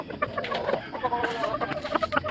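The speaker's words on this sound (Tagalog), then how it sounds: "Madami-dami din itong manok ka" A flock of farm chickens clucks continuously and close by, overlapping busy calls around feeding and water time in a rural setting.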